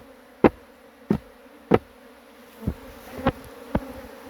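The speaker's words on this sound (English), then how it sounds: "I'm going to just bash the bees off here" Several sharp thumps at irregular intervals as honey bees are gently knocked off beehive parts during spring hive preparation, over a steady hum of buzzing bees throughout.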